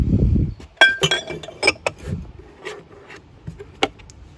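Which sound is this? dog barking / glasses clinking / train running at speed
glasses clinking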